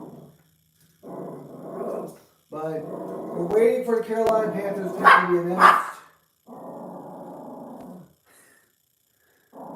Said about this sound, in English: This Robbie girl is just loving to bark at the TV whenever she can get the possibility to.